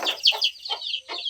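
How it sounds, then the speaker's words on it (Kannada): A brooding hen sits on eggs in a nesting box inside a chicken coop on a free-range farm, giving several short, separate clucking calls close by with brief pauses between them. "ಒಂದು ಕೋಳಿ ಕೂತಿದೆ ಮೊಟ್ಟೆಗಳ ಮೇಲೆ."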